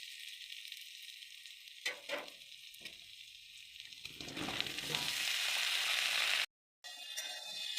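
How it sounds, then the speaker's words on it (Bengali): Potato and pointed gourd sizzle in a pan with egg, a steady close frying hiss that swells louder midway, with spatula scrapes and a brief break near the end. "এবারে এর উপরে আমি আলু আর পটলটাকে দিয়ে দেবো"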